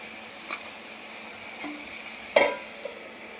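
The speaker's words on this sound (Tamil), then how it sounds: "நல்லா வதங்கட்டுங்க." Chopped onions and tomatoes sauté in a pan for Tamil-style egg thokku, giving a soft steady sizzle with a few light clinks of a stirring spoon.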